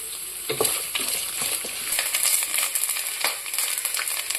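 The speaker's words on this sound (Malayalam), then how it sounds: "തേങ്ങ കൊത്ത് നല്ല ഗോൾഡൻ ബ്രൗൺ കളർ ആകുന്നവരൊന്ന് നമുക്ക് ഫ്രൈ ആക്കി എടുക്കാം" Continuous close-up sizzling and crackling of coconut slices frying to golden brown in a pan, with occasional scraping stirs breaking through the hiss.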